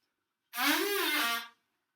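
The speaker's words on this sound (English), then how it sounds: "Let me honk a few notes, see what we got" A horn gives one loud, sustained honk of about a second, a single steady buzzing tone that stops abruptly, with silence before and after.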